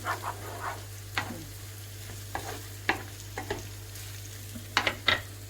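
Egg stir-fried in a pan for home-made fried rice: scattered scrapes and clacks of the utensil against the pan over a soft sizzle and a steady low hum, with a couple of quick clusters of strokes near the end.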